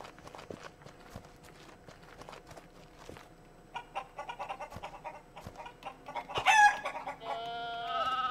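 Game chickens cluck and squawk in a farming video game, quiet scattered sounds first, then a louder burst of cackling and a short crow-like call toward the end.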